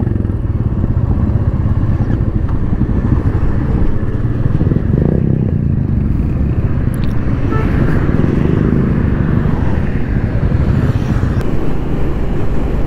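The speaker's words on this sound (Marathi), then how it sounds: "तर आता ग्रुपमध्ये आणखी 4 ते 5 बाईक्स जोडलेल्या आहेत" Several motorbikes on a group road ride rumble steadily and loudly throughout, a continuous dense engine roar with passing clatter, as more bikes join the pack on an outdoor ride.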